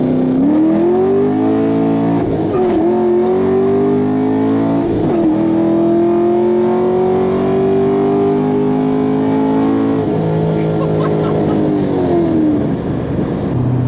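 Modified 500 whp 2014 Chevrolet Camaro SS V8 accelerating hard in a roll, loud sustained engine roar climbing in pitch through several gear shifts, heard from inside the car.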